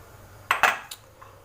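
A pressure cooker pot is picked up and handled in a home kitchen, giving a quick cluster of sharp metallic clanks, then a faint clink, with no talking.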